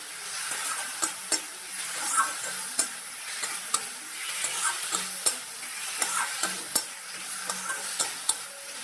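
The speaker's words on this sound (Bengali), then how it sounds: "এখানে আমি আলুটা দিয়ে মশলাটার সঙ্গে ভালো করে কষিয়ে নিচ্ছি।" Potatoes fry with ground spices in a pan, sizzling steadily at close range while a utensil stirs and scrapes in sharp, regular strokes throughout, with no voices.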